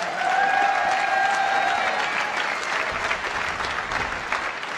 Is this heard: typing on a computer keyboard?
no